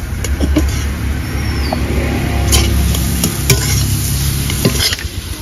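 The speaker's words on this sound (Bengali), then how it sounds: "একটু কাঁচা তেল ছড়িয়ে দেব। এবার 1 মিনিট নেড়ে নামিয়ে নেব।" Taro flower paste drizzled with raw oil being stirred in a frying pan, scraping and light sizzling over a low steady rumble, with a few sharper clinks of the utensil against the pan.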